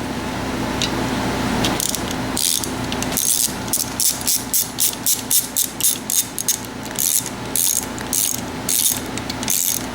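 A ratchet tightening a part on a Honda CB450 engine under rebuild, with rapid clicking bursts in repeated short strokes, loud and close, alone with no talking.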